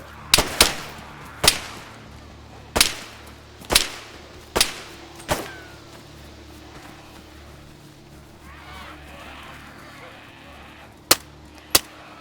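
Magnum revolver gunfire in the survival game DayZ, a run of loud, sharp single shots spaced a second or so apart, then a lull with faint rustling before two more crisp shots close together.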